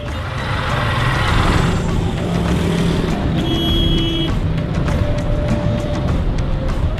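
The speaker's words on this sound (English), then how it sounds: "in the middle, there is an incredible amount of traffic flowing" Heavy street traffic in Lahore rumbles loud and close: a dense, unbroken blend of car, truck and engine noise with occasional brief tonal horn-like calls cutting through.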